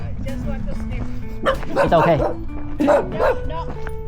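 A person speaks briefly on a hiking trail on Lantau Island, Hong Kong, while nearby dogs let out two clusters of sharp barks and yips, the second shorter than the first.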